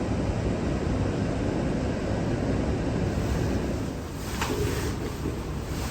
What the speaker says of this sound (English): look at that, the river is cranking.